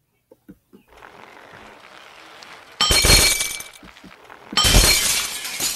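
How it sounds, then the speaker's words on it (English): Glass shatters in the video game Happy Wheels: two loud, crashing bursts of breaking glass, each with a tinkling tail, cut in over a low, steady hum. "Break glass."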